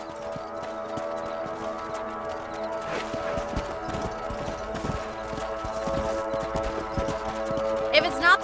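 Horse hooves clip-clop steadily while riding in Red Dead Redemption 2, a close rhythmic gait under ongoing music and game ambience, with a sharper flurry near the end; voices speak over parts of it.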